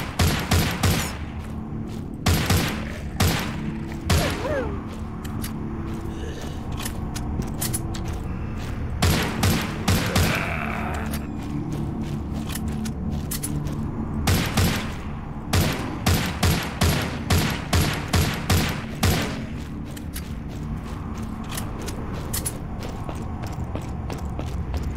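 Gunfire from a headshot attempt in The Walking Zombie 2, with sharp shots in quick clusters again and again against a steady low game background, the volleys spread through the whole stretch with short gaps between them.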